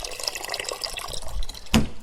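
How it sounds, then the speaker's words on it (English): Well water running into a cooking pot, a close splashing, trickling stream with drips, ending in a brief louder splash. "So I am filling my pot"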